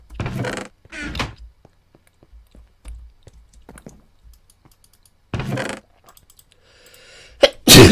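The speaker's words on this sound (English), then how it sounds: "I'm gonna sneeze." Several loud, sharp sneezes burst out near the microphone, two close together at the start and two more toward the end, separated by quiet stretches with light clicking and tapping sounds.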